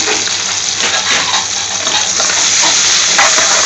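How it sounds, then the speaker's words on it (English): Chopped onion goes into a frying pan of golden garlic in an Indian restaurant kitchen, a loud, steady sizzle with stirring scrapes and no speech. "Now he is adding the chopped onion."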